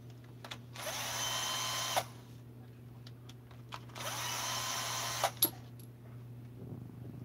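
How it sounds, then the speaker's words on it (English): A power tool used to take a carburetor apart whirs in two bursts of about a second each, with light clicks and taps of parts between them and a steady background hum. "I'm just pulling a carburetor apart"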